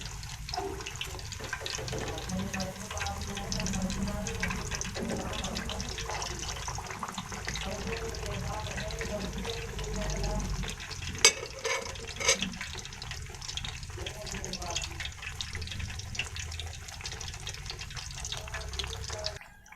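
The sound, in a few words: besan naan frying in oil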